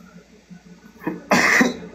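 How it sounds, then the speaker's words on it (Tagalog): A person coughs in a short, loud burst of two or three harsh hacks near the end, preceded by quiet low murmuring in the background. "Alam na, ubo siya."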